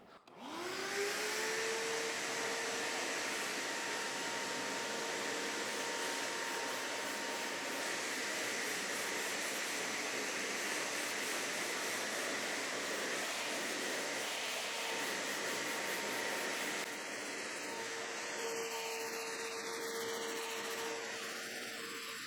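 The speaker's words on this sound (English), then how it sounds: "Let's turn the vacuum on and let's continue to sand and see if any of that dust gets picked up" A shop vacuum runs in a steady, loud whine and roar while automotive body filler is sanded, with faint scraping under the drone and the motor winding down at the end.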